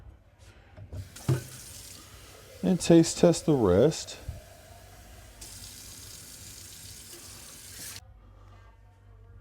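A sink tap runs, a steady hiss of water lasting several seconds at moderate volume, with someone speaking briefly over it near the start and a clatter of dishes or objects in the middle.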